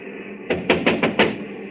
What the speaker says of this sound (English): First of all, we'll try rapping on the door.